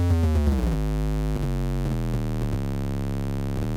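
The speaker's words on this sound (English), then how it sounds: "this is one way to thicken up your synth sound" A Synthstrom Deluge synth on a single oscillator with the bass EQ boosted, playing thick, warm, buzzy sustained notes that shift pitch in a short sequence, loud and close with no voice.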